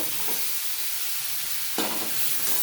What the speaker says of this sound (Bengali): মশলাটা আমার বেশ ভালোভাবে ভাজা হয়ে গেছে এবার আমি মাছগুলো দিয়ে দেব